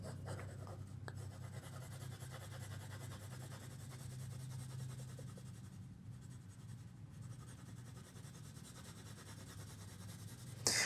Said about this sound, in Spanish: Sigo apretando cada vez más el lápiz porque me doy cuenta que esto no está oscuro lo suficiente.